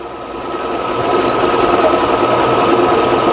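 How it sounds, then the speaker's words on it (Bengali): A Butterfly sewing machine stitching, a continuous fast mechanical whir with steady hum that builds slightly and then holds, close and fairly loud, with no talking. "হাত দিয়ে কাজ সেলাই করে দেখাচ্ছি"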